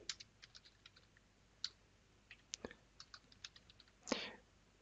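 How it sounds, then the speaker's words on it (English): Keys tapped on a computer keyboard while entering a name during a Fedora 31 Server beta install in VirtualBox: scattered quiet clicks in short bursts, ending in a brief louder flurry, with no talking. "So I'm going to type my name here."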